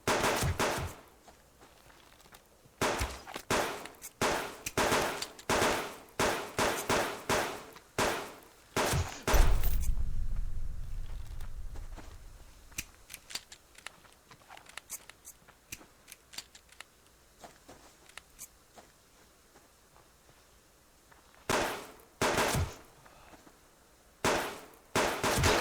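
Pistol shots fire against rogues in the survival video game Subsistence, a rapid burst of loud sharp shots, a pause with a low rumble, then scattered shots and a final short volley.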